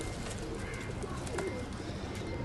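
A white-eyed Teddy pigeon gives a soft, low coo, heard once against a steady hiss of background noise.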